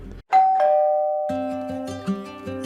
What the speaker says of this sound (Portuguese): Tocamos a campainha de uma casa azul com janelas brancas